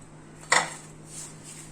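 Hamburger buns are lifted out of a pan in a home kitchen, a single short metallic clatter of utensil against the pan, faint and close, followed by quiet room tone.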